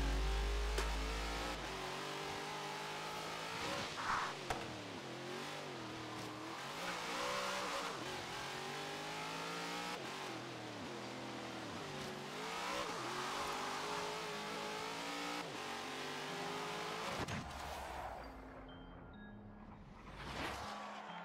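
A Holden race car roars through a race in Forza Horizon 3, its engine revving up and down through gear changes with continuous loud acceleration and a brief drop near the end, no voices.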